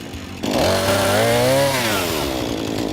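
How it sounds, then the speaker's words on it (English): A chainsaw with a worn, dull chain roars to life and runs steadily at high revs, loud and close, with a droning engine whine that rises and then settles, while felling a tree. "you can tell we haven't used that chainsaw in a while, and the blade is shot"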